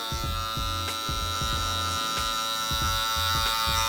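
Electric hair clippers buzz steadily at close range while cutting a low taper, the hum pulsing in quick repeated strokes as the blade passes through hair, with no talking.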